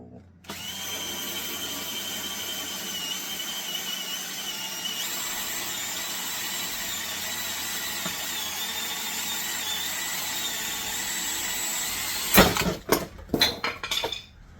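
A power drill runs steadily while boring a hole into a metal bicycle part for a lowrider build, a continuous whining drone for about twelve seconds, ending with a few clattering knocks and scrapes.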